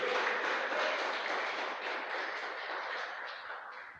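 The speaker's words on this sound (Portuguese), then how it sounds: "Você pode aplaudir esse Jesus?" A church congregation applauds during a Friday evening sermon on faith, a dense, steady roar of many hands clapping together that fills the room and fades slightly toward the end.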